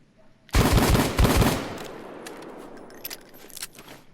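A Taurus Judge shotgun revolver fires in Payday 2. It lets off a loud, close cluster of several heavy shots in quick succession that ring out into a decaying tail, with a few faint clicks afterward.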